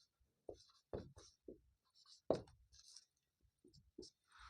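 Pen scratching on paper while maths working is written out during a lesson, a sparse series of short close strokes and taps separated by silences, faint overall.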